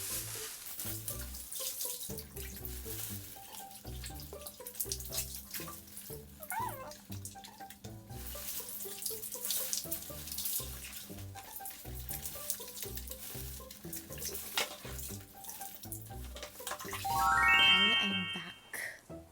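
Tap water running steadily into a sink while dyed hair is rinsed after Bigen cream colour, a constant soft hiss with small splashes and shifting flow, fairly quiet and close, with a brief louder gush near the end.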